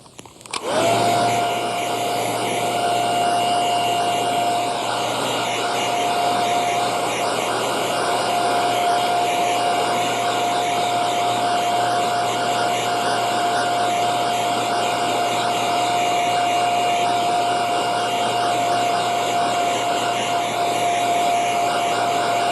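A hair dryer blows on a tissue pressed against the forehead while theatrical makeup is set, giving a loud, steady, close whir with a thin constant whine that runs unbroken from start to finish.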